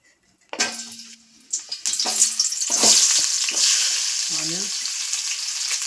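Chopped onions hit hot cooking oil in a pan and set off a loud, steady sizzle that swells and holds after a few stirring clatters, with a brief voice heard near the end.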